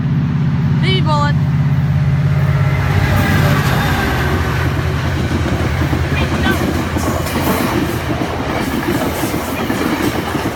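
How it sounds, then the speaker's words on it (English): A baby bullet commuter train passes at night with a loud, continuous rolling roar and rhythmic clatter of wheels. A voice speaks briefly at the start over the train. "It's a baby bullet, I think."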